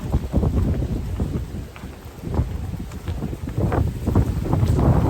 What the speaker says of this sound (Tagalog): And lakas ng hangin.